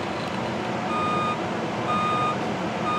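Steady reversing beeps from a toy truck repeat in an even rhythm over a faint background hiss, with no talking.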